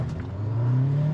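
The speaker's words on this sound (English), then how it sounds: "Took a second for the gas engine to kick on." A 2021 Jeep Wrangler Rubicon 4xe in hybrid mode and four-wheel drive auto, its gas engine kicking on during hard acceleration, a steady low engine drone that rises and grows louder, close up with no talking.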